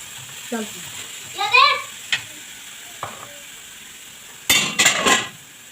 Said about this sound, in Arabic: هقلب كده الخبيزه